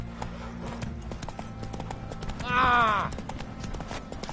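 Horse hooves clip-clopping in a rhythm in The Witcher 3, steady throughout, with a short voiced shout and a brief whinny-like call partway through.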